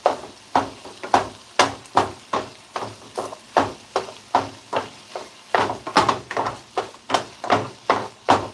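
A knife chops food on a cutting board in a steady rhythm of about three sharp thuds per second, close and clear, continuing without pause.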